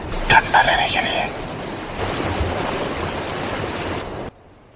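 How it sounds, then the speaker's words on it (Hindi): A jungle waterfall rushes in a steady, broad roar of falling water, loud and close, with a brief voice near the start, before the sound cuts off abruptly near the end. "ये झरना मानो जैसे हमारे लिए वरदान की तरह सामने आया"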